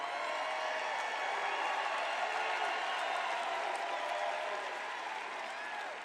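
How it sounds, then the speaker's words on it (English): Large rally crowd in Glendale, Arizona applauds and cheers in a continuous, dense wash of clapping that holds steady throughout and eases slightly at the end. "I don't think I've ever introduced anybody that got applause like that"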